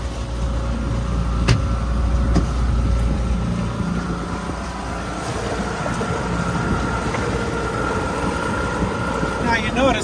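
An outboard boat motor runs steadily at its lowest shaft position, a continuous low engine drone and churning water with wind buffeting the microphone throughout.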